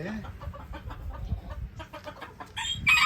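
Several silkie chickens cluck in quick, overlapping bursts close by, with a louder squawk near the end.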